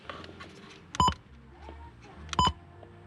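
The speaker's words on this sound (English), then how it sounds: "That beep is deafening." Two short, sharp electronic beeps from an ATOTO F7 touchscreen car stereo installed in a Toyota Altezza, spaced about a second and a half apart over quiet cabin background.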